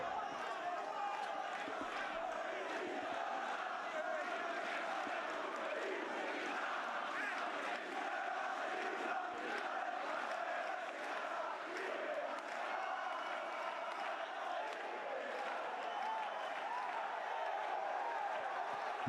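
A crowd of Valencia supporters cheering their team in a La Liga football stadium against Barcelona, a steady broad roar sustained throughout, with a commentator talking over it.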